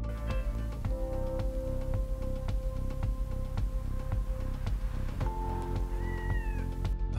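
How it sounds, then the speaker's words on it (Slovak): A cat meows repeatedly over a light, steady background, giving several short, clear cries in a loose rhythm with one longer, rising call near the end. "hladkať mačku"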